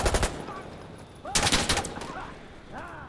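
Gunfire from the tactical shooter Insurgency Sandstorm: a sharp burst of shots at the start, a louder cluster of rapid reports midway, then quieter trailing noise while a player talks faintly.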